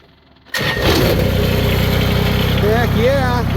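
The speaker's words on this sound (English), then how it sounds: "Hear the fuel pump kick in." A Kubota BX tractor engine cranks and catches after a fuel filter change, then settles into a steady, loud idle that runs continuously close by.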